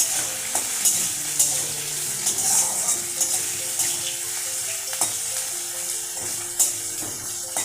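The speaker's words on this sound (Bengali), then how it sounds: "এবারে এদিকে আলুটাও ভাজা চলছে।" Potatoes fry in a pan while being stirred, with a loud, steady sizzle broken by repeated scraping and clattering strokes of the spoon against the pan.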